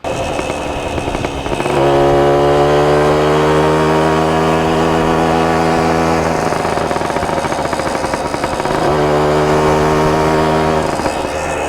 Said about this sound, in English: And then this is the RV125.